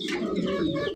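A King pigeon gives one short, close, full coo that lasts about a second.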